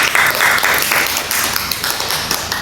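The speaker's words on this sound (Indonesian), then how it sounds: "Tepuk tangan untuk Tias anak-anak." Children in a primary-school reading lesson clap together for a classmate, producing a dense, steady burst of close, lively applause that lasts a few seconds without a voice over it.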